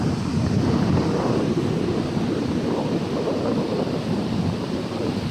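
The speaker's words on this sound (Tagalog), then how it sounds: "mga alon oh. Oh. Malalaki yan guys." Large ocean waves roll and crash continuously along with gusting wind that buffets the microphone, a loud, dense roar filling the whole recording with no clear pauses.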